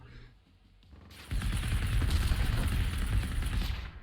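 A Firebird robot in the video game Generation Zero unleashes rapid machine gun fire, a dense, loud, continuous roar of shots starting abruptly after a quiet moment and sustained to the end.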